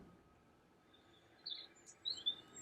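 Bird song sound from a PICTEK night light with white noise machine: a few faint, high chirps over soft background hiss.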